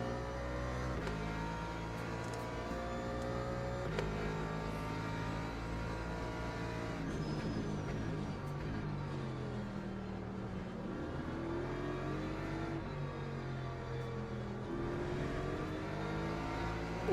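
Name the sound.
BMW race car engines in Le Mans Ultimate video game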